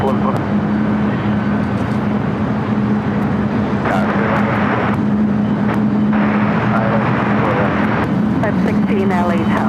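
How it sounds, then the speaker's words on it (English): An Air China Cargo Boeing 777 freighter takes off from the south side at LAX, its steady loud jet roar sustained throughout beneath intermittent radio chatter. "There is an Air China Cargo 777 freighter taking off on the south side, though."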